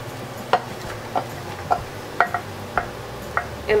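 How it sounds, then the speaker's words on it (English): Bok choy stems tossed into a hot pan with garlic, a light sizzle under a run of sharp, regular clicks and taps from stirring, fairly close and steady. "now we're just gonna be throwing in the stems"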